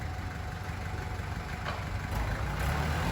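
A Kubota L4508 four-wheel-drive tractor engine runs at a steady idle, a low rumbling drone heard close by with no talk.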